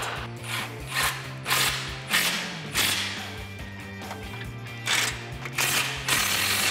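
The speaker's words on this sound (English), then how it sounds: "grab your 15mm once again and tighten your tow hook bolt" A 15mm ratchet tightens a tow hook bolt on a 2021-2022 Ford Bronco, giving short bursts of metallic clicking strokes, close and clear, with no speech.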